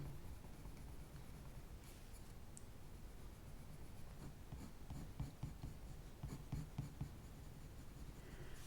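Steady scratchy strokes of coloured pencil on paper while sketching, close up, continuous with a few firmer scrapes, no talking.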